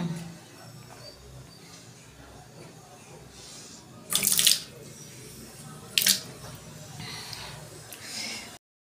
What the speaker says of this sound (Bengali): দেখো মেকআপ আমি ধুয়ে দিচ্ছি।